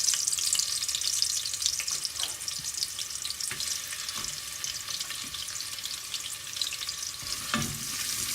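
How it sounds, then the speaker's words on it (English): Onions fry in heated coconut oil with a bright, dense sizzle that runs the whole time, broken by occasional light stirring clicks. "we're going to add the onions to the heated coconut oil until they go lightly"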